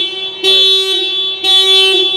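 A 2024 Nissan Almera horn set off remotely from a phone app sounds two loud, close, steady honks of about half a second each, separated by a short gap.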